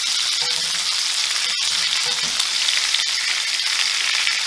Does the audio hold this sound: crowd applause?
no